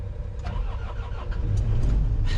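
The engine of a John Deere 160D excavator cranks and catches, rising into a rough, loud, close mechanical rumble that settles toward an idle with a few higher clanks over the top.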